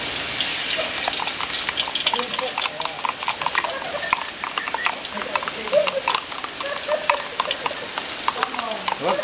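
Blended ingredients frying in a wok for a sweet and sour fish dish, a steady close sizzle with scraping and stirring clatter throughout.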